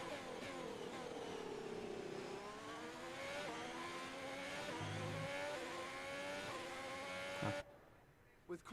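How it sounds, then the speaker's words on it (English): Ferrari Formula 1 car engine screaming through upshifts and downshifts in the F1 2020 racing game, a loud continuous high-revving whine with rising pitch sweeps, ending abruptly near the close. "The Ferrari engine sounds great."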